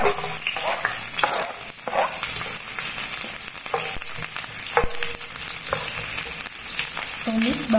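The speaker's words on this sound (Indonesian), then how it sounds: "Tumis bawang merah dan bawang putih sampai harum ya." Shallots and garlic sauté in oil in a Teflon pan, giving a steady, close sizzle with scattered clinks and scrapes of stirring throughout and no talking.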